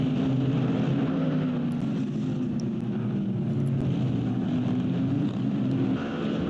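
GT4 race cars in a racing video game on the Indianapolis road course, a steady dense engine drone from several cars at once, loud and continuous without pauses or talk.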